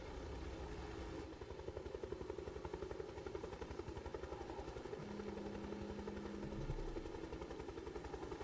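A helicopter in the video game Ghost Recon Wildlands drones with a steady rotor thump and engine whine, loud and continuous throughout, with no talk over it.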